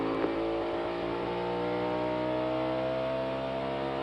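A NASCAR Cup race car at Daytona International Speedway revs its engine steadily, a loud, continuous and slightly rising drone with a faint misfire, with no talk over it.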